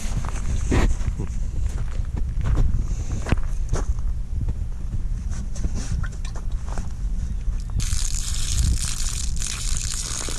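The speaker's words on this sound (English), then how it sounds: "gonna dump out whatever's in this washer bottle" Brownish, rusty-looking fluid is dumped from the washer bottle of a 1986 Chevy C20 pickup. Scuffing and handling noises come first, then a sustained rushing pour of liquid begins near the end.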